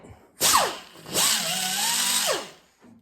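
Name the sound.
AirCat angle die grinder cleaning old primer off metal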